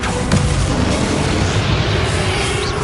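Confringo blasting spell going off in Hogwarts Legacy, a loud, dense booming explosion roar that fills the whole moment with sustained rumbling energy.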